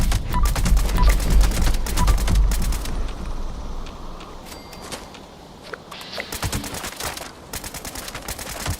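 Rapid gunfire from hip-fired weapons in Fallout 76, loud bursts of sharp shots in the first few seconds, a quieter lull, then another string of shots near the end.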